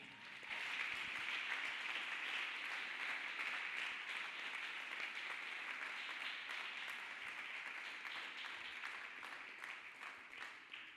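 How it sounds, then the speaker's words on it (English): A church congregation claps hands together at a testimony service, a dense, sustained wash of applause that holds steady and loud for the whole stretch with no clear talk over it. "Let us clap hands for Jesus Christ."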